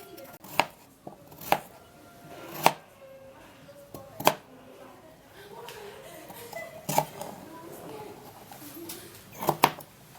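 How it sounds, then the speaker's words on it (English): A potato being peeled, with several sharp scraping strokes spaced irregularly over quiet background noise, close and fairly crisp. "we're going to peel off the potato"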